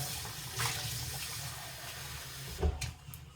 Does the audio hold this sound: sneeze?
no